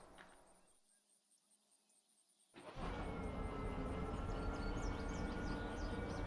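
A diesel locomotive in the train simulator Derail Valley starts up after a short quiet pause, then settles into a loud, steady engine rumble and drone that runs to the end.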